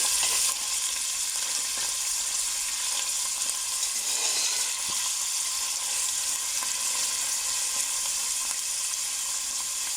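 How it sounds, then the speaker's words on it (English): Onions sizzle steadily in a hot pan with curry leaves for a sugar bean curry, a dense, continuous frying hiss that stays loud and even throughout with no voices. "Let this fry for just over a minute."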